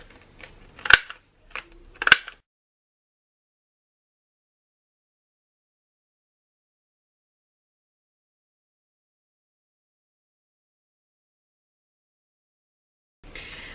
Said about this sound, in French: Pour faire les coins, moi j'utilise cette perforatrice.